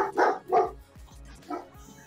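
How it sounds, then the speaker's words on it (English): A dog barks several times in quick bursts, fairly close and loud, with a quieter yip later, heard indoors over a faint background. "I hear a dog."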